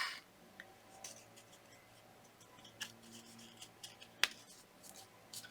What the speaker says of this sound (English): So I'm trimming that down and making sure all the sides are stuck.